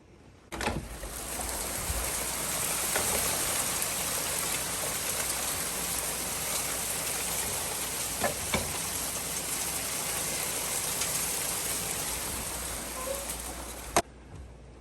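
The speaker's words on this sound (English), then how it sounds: "pouring down rain outside right now" Heavy rain pours steadily outside a cabin, a dense, continuous hiss of drops on surfaces that holds for most of the stretch, with a few sharper drips or knocks standing out and no talk over it.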